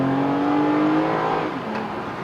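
A 2021 Toyota TRD Camry accelerates hard from inside the cabin, its engine note rising steadily in pitch and then dropping at a gear change, loud and close with no talk.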